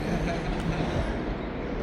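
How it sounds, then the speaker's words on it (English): A tram in Manchester rolls through, a steady broadband rumble with rail noise that holds level across the whole stretch, with faint background voices. "just waiting for the tram"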